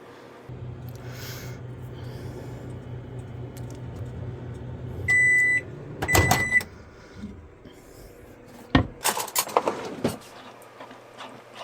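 A microwave oven heats chocolate to melt it with a low, steady hum. Sharp electronic beeps follow, then clattering handling noises from the door and dish, all fairly faint and with no voices.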